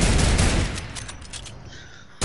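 Heavy burst of automatic gunfire in a video game, loud and dense at first, then thinning into scattered fading shots over about two seconds.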